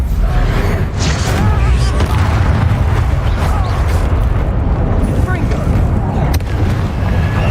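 In Hogwarts Legacy, a Bombarda blasting spell erupts amid dense, loud game combat noise, with booming rumble sustained throughout under a voice.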